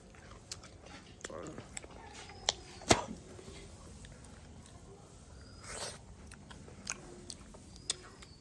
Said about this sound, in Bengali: এই বাকল সহ খাচ্ছি, মানে অনেক টেস্টি।